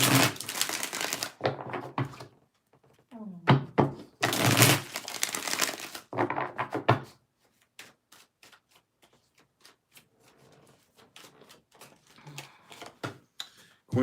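Tarot cards being shuffled for a reading, bursts of riffling and flapping cards in several rounds, then a run of lighter, scattered ticks and taps as the deck is handled close by.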